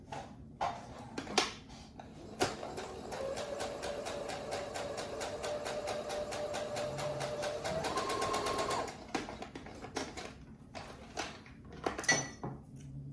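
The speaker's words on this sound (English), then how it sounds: "Put it together and sew." A sewing machine stitches fabric for a breathable face mask, running in one steady rapid burst of needle clatter for about six seconds, with handling clicks and fabric rustles before and after.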